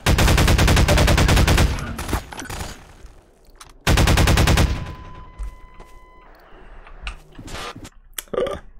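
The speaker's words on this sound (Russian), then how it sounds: "Кто стреляет?" Half-Life 2 gunfire in two loud rapid automatic bursts, each lasting a couple of seconds, followed by quieter clicks and scattered single shots.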